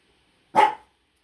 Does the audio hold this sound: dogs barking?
yes